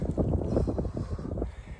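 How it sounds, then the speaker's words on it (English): Gusty outdoor wind rumbles and buffets steadily before a coming rain, fairly low in level and continuous, with no one speaking. "It's windy"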